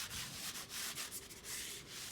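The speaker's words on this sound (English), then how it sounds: "it's always good to give it a little quick sand." A painted bathroom wall given a quick hand sanding after the first coat dries, soft rhythmic rasping strokes back and forth, close but quiet.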